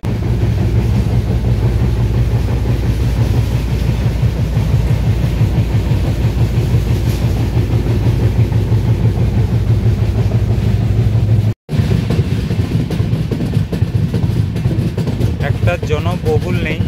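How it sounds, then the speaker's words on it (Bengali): A night passenger train pulls out of platform 2 at a nearly empty station on the Digha to Howrah route, its steady rumble and wheel clatter running continuously at close range, with a brief dropout partway through. "7:20 ট্রেনটি 2 নম্বর প্ল্যাটফর্ম থেকে ছাড়লো।"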